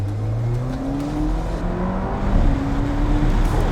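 An Alfa Romeo 4C Spider Italia Edition accelerating, its engine note climbing in a steady rising whine, heard close and fairly loud with no talk.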